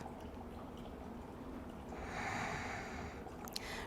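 A full, deep breath during a yoga session: a soft, close airy inhale swells midway, then fades, with quiet background hiss and no talking.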